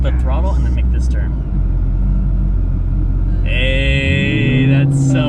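A 1,200 hp Shelby GT500 Mustang pulling away in first gear, a deep loud engine rumble that rises in pitch as it moves off, with people talking inside the cabin.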